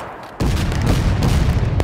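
A line of soldiers fires a musket volley in the War of Rights video game: a sudden loud crackling roar of many shots bursts out at once and rumbles on, close and dense.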